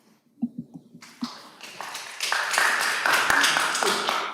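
Audience clapping at a city council meeting, starting as a few scattered claps and swelling into steady, fairly loud applause from a room full of people.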